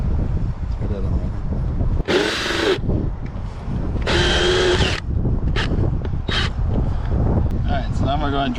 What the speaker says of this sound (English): now I'm going to go ahead and drill my hole for my connector